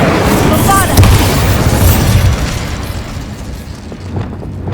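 The Incendio fire spell cast in Hogwarts Legacy, a loud booming whoosh of flame that swells up and then trails off into a rumbling roar, with voices present.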